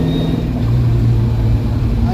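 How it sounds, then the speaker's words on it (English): A car fitted with a rebuilt Ford 8.8 rear end drives along, giving a loud, steady low rumble and drone with road noise throughout. "The rear end is making quite a bit of noise."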